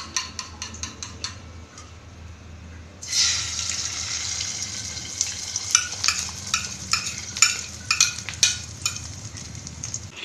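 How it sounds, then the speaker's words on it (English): An egg frying in a pan: a few faint clicks give way to a sudden bright sizzle as it hits the hot surface, then a steady crackling hiss with repeated sharper pops, close and clear with no talking. "I'm going to fry egg."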